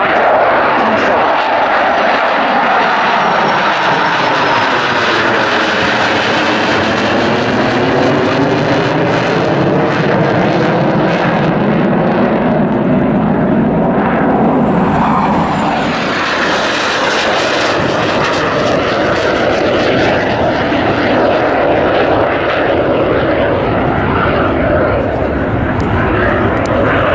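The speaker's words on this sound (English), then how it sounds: "first leaping into the air, the English Electric Canberra PR9" An English Electric Canberra PR9 jet takes off at an airshow, its engines roaring loud and steady with a sweeping pitch shift as it climbs away, while an announcer talks throughout.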